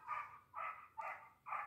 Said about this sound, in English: pardon my dogs